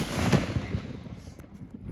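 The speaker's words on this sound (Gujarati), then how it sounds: "અને આ સુતળી બોમ્બ જોવો તમે." A sutli bomb firecracker explodes outdoors at New Year, a single loud close bang followed by a fading rumble and scattered crackle.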